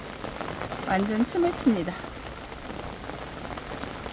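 Rain falls on trees at a farm nursery on a July day, a steady wet patter through the whole stretch while someone talks over it in Korean.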